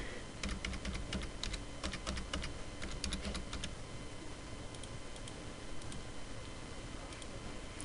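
Credit card details are typed on a computer keyboard in quick bursts of close, crisp key clicks, pausing after a few seconds and trailing off into a few isolated taps over quiet room hiss.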